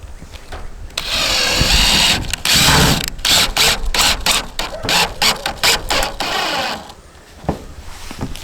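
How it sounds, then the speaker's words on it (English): Harsh whirring of a power drill driving screws through a metal roof on an old mobile home, coming in repeated bursts and stutters with short pauses between, loud and close. "it pushes up when you try to drill through the metal"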